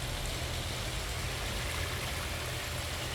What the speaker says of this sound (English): That's a really nice looking water fountain. Everything right now is running.